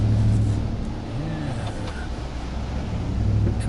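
A 2022 Chevy Silverado ZR2 pickup pushes through deep water off-road, its engine giving a steady, loud drone with a continuous wash of water noise for the whole stretch.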